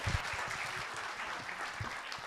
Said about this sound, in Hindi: एक बार जोरदार तालियां सचिन तनेजा के लिए